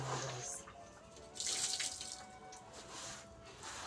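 Tap water runs steadily while soaped items are rinsed, a soft, fairly faint continuous flow with brief surges.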